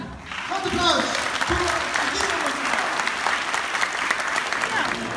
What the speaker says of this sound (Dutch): Wat een applaus!